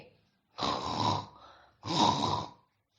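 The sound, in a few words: snoring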